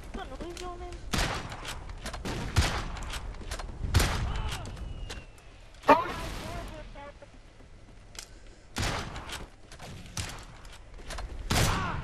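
Separate sharp gunshots in a Call of Duty: Ghosts sniping match, loud cracks spaced several seconds apart, with game effects between them and a player speaking.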